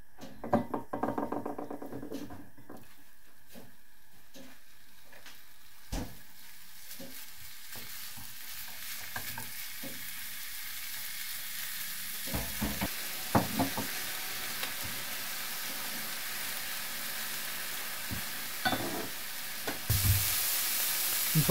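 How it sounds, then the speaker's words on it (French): Ground meat frying in a pan for poutine, a steady broadband sizzle with occasional scrapes and knocks of stirring, continuing throughout and swelling louder near the end, with no talking. "je fais cuire la viande hachée."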